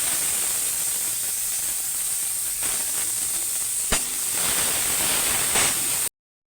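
Chopped onions fry in hot oil with cumin, garam masala and a bay leaf, giving a steady, broad sizzling hiss that stays constant and close, with one sharp crackle partway through before it cuts off.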